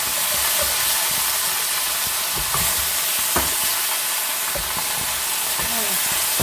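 Chicken pieces stirred in a hot pan for a colombo, sizzling and hissing steadily throughout with occasional scrapes and clinks of the utensil, close and fairly loud, with a faint voice now and then.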